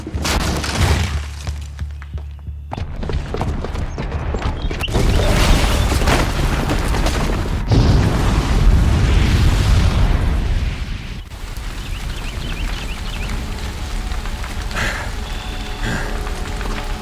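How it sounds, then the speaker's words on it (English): A bomb's booby trap goes off in Horizon Zero Dawn, a loud sustained explosive roar with crumbling, rain-like debris that swells and then settles into a rumbling wash, with no voices. "the booby trap on the bomb downstairs is gonna get set off"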